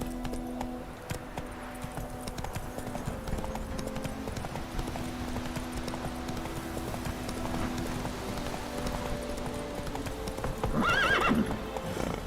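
Roach, a horse in The Witcher 3, gallops with a steady, rhythmic clip-clop of hooves over a low game ambience, ending in a loud neigh near the close.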